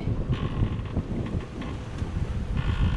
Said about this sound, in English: No motor noise, just the wind.